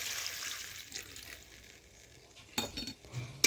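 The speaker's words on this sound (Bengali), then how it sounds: "জল দিয়ে দিয়েছি, একটু নাড়াচাড়া করে নিচ্ছি সবজিগুলো" Ridge gourd and potato curry being stirred in a pan right after water is added, giving a soft hiss and sizzle with scraping spoon sounds and a few louder clatters near the end.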